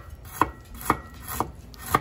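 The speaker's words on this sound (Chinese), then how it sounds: "先切片切丝，然后再把它切末。" Knife chopping fresh ginger into fine pieces on a board for homemade Chinese sausage seasoning: four evenly spaced sharp chops, close and clear, with no voices.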